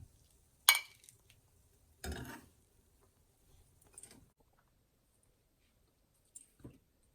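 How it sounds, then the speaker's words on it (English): Tomato rasam is transferred into a serving bowl: a sharp clink of a utensil against the vessel, then a pouring splash, followed by a few softer clinks and taps with quiet gaps between them. "Transferring it into the serving bowl."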